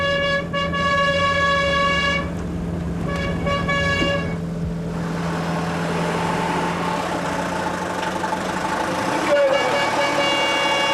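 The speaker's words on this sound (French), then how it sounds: "le klaxon de la célèbre camionnette orange déchire le silence des villages déserts" The horn of an orange travelling-salesman van blares in a quiet, deserted Corsican village, long tonal toots repeated several times with short gaps, loud and near, over a rumbling engine.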